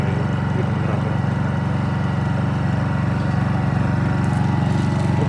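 A Honda EU22i inverter generator runs at a steady, even hum with a fine rhythmic engine pulse, close and constant for the whole stretch with no voices.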